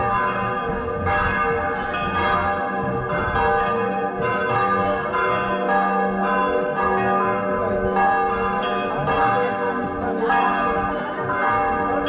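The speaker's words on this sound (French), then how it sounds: "chaque église va sonner les cloches à chaque fois qu'elle passe" Church bells ring continuously amid an outdoor religious procession in the streets of Ischia, Italy, the layered metallic peals dense and sustained over crowd ambience, with no clear speech.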